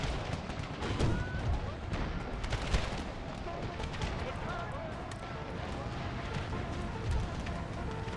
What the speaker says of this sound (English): Howitzers drop shots right in the center and on the right here.